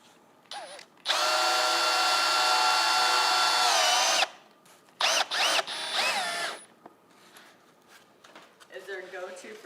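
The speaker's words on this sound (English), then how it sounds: "I'm going to just run a couple screws" A power drill drives screws into a foam panel, whirring in one long sustained burst followed by several short spurts, with people talking between the runs.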